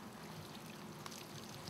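Water is poured from above onto a newly planted garden container, giving a soft continuous splashing and trickle, faint and close, with no voices.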